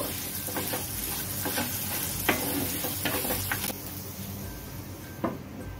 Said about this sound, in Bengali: সব উপকরণের সাথে 2 মিনিট নাড়াচাড়া করে নেব।